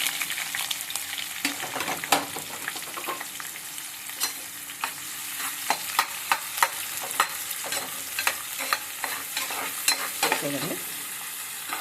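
Curry leaves, onion and green chillies fried with cloves, cardamom and other spices in a pan, a loud continuous sizzle and spatter with irregular spoon scrapes and knocks throughout; a voice says a single short word.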